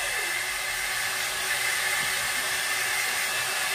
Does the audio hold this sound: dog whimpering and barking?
no